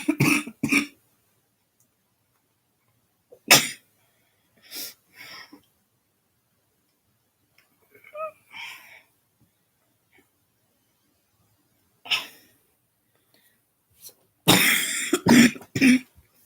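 Several separate coughs and throat-clearing bursts spaced across a quiet stretch, close by, ending with a cluster of harsher coughs.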